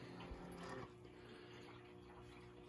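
A Keurig K Express Essentials coffee maker brews a 10-ounce cup, giving a steady close-up gurgling, pumping water sound that stays even for the whole short stretch.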